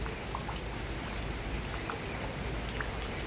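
Steady rain falls with a dense, even patter of drops on surfaces, moderately quiet and continuous, with no voices over it.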